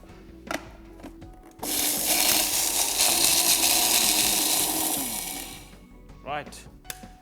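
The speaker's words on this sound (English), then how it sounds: "now I'm going to go to that blender and make it a powder" A kitchen blender grinds ingredients for an Indonesian-style lamb korma spice mix into powder, a loud steady whirring roar lasting about three and a half seconds, with brief speech and clatter before and after.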